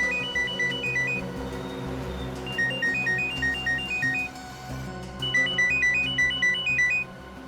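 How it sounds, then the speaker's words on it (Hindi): A telephone ringtone plays in repeated electronic melodic bursts, three phrases separated by short pauses, loud and clear over faint background noise inside a bus. "फोन की घंटी बज रही है"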